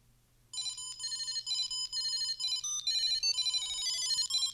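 A Tile Bluetooth tracker plays its Jingle Bell ringtone, a bright electronic chiming melody that repeats continuously and loudly at close range with no speech over it.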